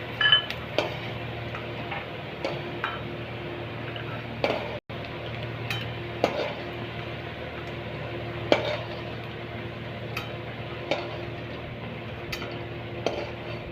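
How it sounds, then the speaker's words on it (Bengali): Peanuts frying in oil for a Bengali fried-rice dish of leftover rice, stirred in the pan with a utensil, giving irregular clinks and scrapes over a low steady hum. "বাদাম আগে ভেজে নেবো।"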